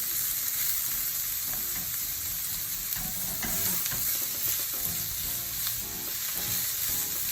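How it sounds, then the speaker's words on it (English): Spring onion added to a hot frying pan with ginger and garlic, sizzling loudly and continuously while being stirred, close up and with no talking. "Then I'm going to add a bit of spring onion."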